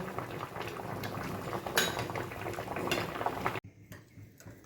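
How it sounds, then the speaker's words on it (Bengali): Water drains from a pot of boiled potatoes in a kitchen as a steady liquid pour and splash, with light metallic clinks of the pot, close by. It cuts off abruptly to quieter clatter near the end. "এবার আমি জলটা ঝরিয়ে নেব"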